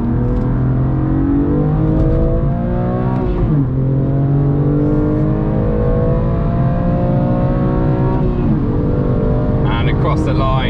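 BMW M2 Competition on Michelin Cup 2 tyres driving fast on a race track through a fast final right-hand corner, engine droning loud and steady with pitch shifts as it slows and picks up again, under continuous onboard noise.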